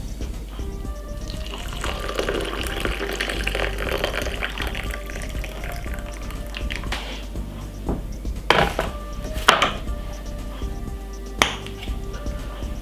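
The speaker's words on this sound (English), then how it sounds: "Pour some hot water on it." Hot water pours steadily into a glass over diced ginger with a rising gurgle, followed by a few sharp clinks of glassware.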